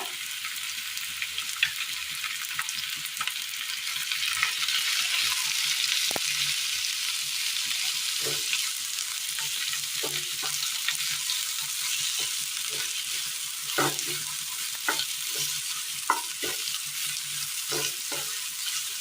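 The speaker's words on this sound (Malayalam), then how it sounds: "ഇതിലേക്ക് അരിഞ്ഞു വെച്ചിരിക്കുന്ന സബോള ഇട്ട് കൊടുക്കാം" Sliced onions frying in a pan for a Kerala roast, a steady broad sizzle running throughout with scattered clicks and scrapes of stirring, close and fairly loud, no voices.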